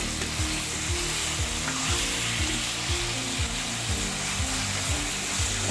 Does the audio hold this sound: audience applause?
no